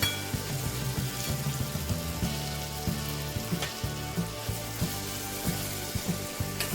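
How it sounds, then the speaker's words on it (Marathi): Tomatoes sauté in hot oil in a pan for a ridge gourd curry, giving a continuous close sizzle broken by light, regular clicks of stirring. "टोमॅटो मऊ होईपर्यंत परतवूया."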